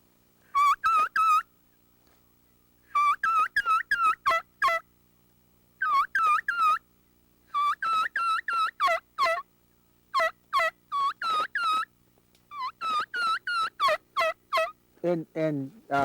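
A person blows a turkey mouth call to imitate yelps and clucks: short bursts of rapid, high, raspy notes grouped in runs with silent gaps between, close and clear, ending in a few lower, rougher notes.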